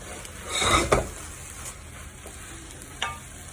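Pine nuts and vegetable filling being stirred in a hot pan for Greek stuffed peppers: a short burst of sizzling and scraping early on, then a quieter hiss with one more brief scrape.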